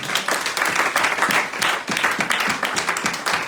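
A church congregation bursts into sustained applause during a sermon, a dense, close patter of many hands clapping steadily and loudly for the whole stretch.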